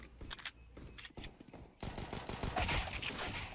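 Rapid bursts of gunfire from Counter-Strike: Global Offensive during a professional IEM Winter 2021 match, with sharp repeated shots that grow denser and louder toward the end, with no talking.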